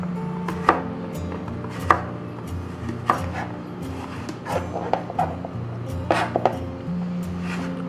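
A knife cuts sweet potato into sticks on a board, giving a series of sharp, irregular chops at close range with short pauses between them and a low background hum.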